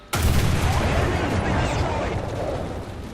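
A single enormous blast from the FV4005's 183mm tank gun in War Thunder, loud and close, with a long rumbling boom that decays slowly over about three seconds.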